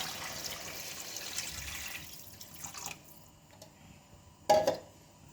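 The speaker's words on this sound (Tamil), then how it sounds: "தண்ணி ஊற்றிக்கலாம்." Water poured into a cooking pot for tomato rice, a steady broadband splash for about three seconds, then it stops and a brief louder clink or splash follows near the end; no talking.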